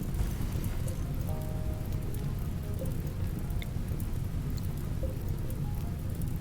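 Steady rain falls in RimWorld, a dense continuous hiss and patter that holds at an even level throughout, with no voices and only a few faint tonal game sounds above it.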